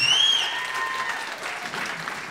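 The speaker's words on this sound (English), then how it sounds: "How about another round of applause?" Audience applause following a jazz performance at a Christmas suite concert, a dense steady wash of many hands clapping that holds at an even level throughout, with a faint tonal whistle or sustained note briefly audible early on.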